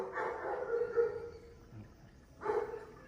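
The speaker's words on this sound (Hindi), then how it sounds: "पर बाहर कुत्ते भौंक रहे हैं।" Dogs barking outdoors, a couple of muffled barks heard from a distance inside a home, separated by a quiet pause.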